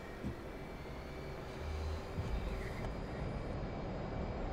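An F/A-18C Hornet jet in the DCS World flight sim spools up for takeoff over a Persian Gulf map, a steady broadband engine roar that swells a little louder partway through, with no talk.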